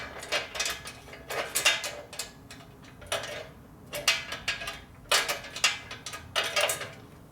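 Short metallic ratcheting bursts from a wrench working a hard-to-reach bolt on a 1973 Harley shovelhead, coming in uneven clusters with pauses between, close and fairly quiet.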